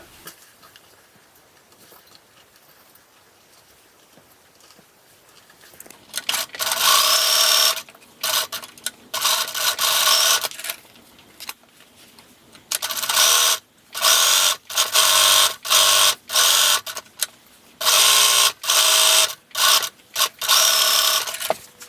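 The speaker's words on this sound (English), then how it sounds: "you're going to sew just those 2 edges with a 1/2 inch seam allowance" A sewing machine runs in repeated bursts, stitching the two edges of a fabric hanger cover with a half-inch seam. After several seconds of near-silence, steady mechanical whirring comes in close stop-start runs, some short and some several seconds long.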